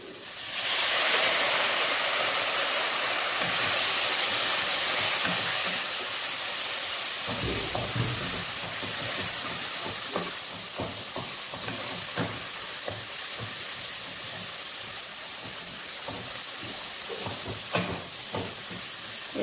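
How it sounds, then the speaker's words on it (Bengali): Spice paste for a spicy Tangra fish curry with tomato fries in a pan, giving a continuous loud sizzle and hiss. Scrapes and stirring knocks come at irregular intervals, and the frying quiets a little partway through. "এবার মশলাটা ভাজবো"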